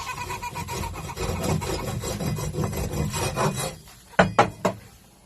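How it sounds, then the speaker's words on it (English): A small hoe scrapes and rasps repeatedly across the wooden floor of a chicken coop, close rhythmic rubbing strokes followed by a few sharp knocks near the end. "Little hoe, clean those, easy to reach."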